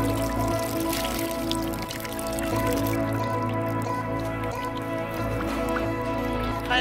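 Hair being washed with running, dripping water, a soft wet trickle and squish beneath a steady hum of background sound.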